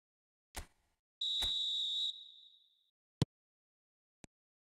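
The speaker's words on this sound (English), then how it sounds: "there goes the whistle" A single sharp referee whistle blast in an eFootball video game, lasting under a second, set among a few brief isolated clicks and taps in otherwise quiet surroundings.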